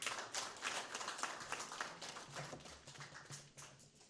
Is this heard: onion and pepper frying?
no